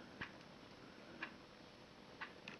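A handmade wooden wall clock ticks quietly and evenly, about one tick per second, the faint clicks standing alone over a low room hiss.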